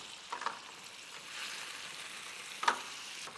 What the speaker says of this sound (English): You burn out the alcohol, so for all you people who don't like to have alcohol